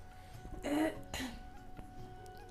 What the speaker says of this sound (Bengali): বারবারই আমার কাশি হচ্ছে মানে আপনারা হয়তো শুনতে পাবেন